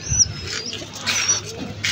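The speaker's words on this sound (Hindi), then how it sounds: "ये बड़ा प्यारा कबूतर है" A pigeon coos close by in a home setting, soft low calls repeating through the short stretch with no talk.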